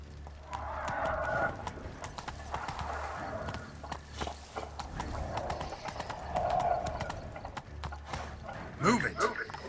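Hooves of Roach, the horse in The Witcher 3: Wild Hunt, clip-clop at a steady trot close by, with a rooster and fowl calling in the background and someone speaking over it.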